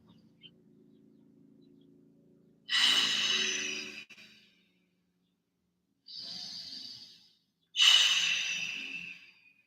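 Deep, heavy breaths during a yoga flow, with two long forceful exhales and a shorter breath between them, each loud and close, separated by quiet pauses, and a faint low hum underneath at the start.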